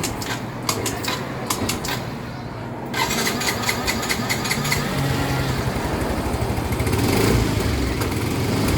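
Yamaha Mio i125 scooter with a misfiring engine that starts hard: a sputtering, shaky idle cranks over and then runs with an uneven, stumbling rhythm, loud and close, with faint voices in the background.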